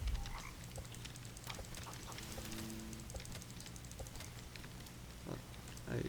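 Frogs croak in the video game 99 Nights in the Forest, with repeated low rhythmic croaks close by over a dense, noisy game background, while a voice speaks faintly at times.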